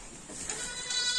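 A goat bleating on a small farm, one loud, close, wavering cry against steady background noise.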